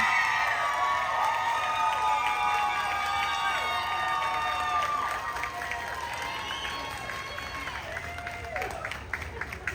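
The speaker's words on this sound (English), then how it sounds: "everyone, one more round of applause for your Miss Street Rod Sweetheart 2024." A crowd at a 1950s-style pin-up girl contest at a street rod event cheers and whoops with scattered clapping, a lively sustained roar that gradually eases off, with high shouts and whistles throughout.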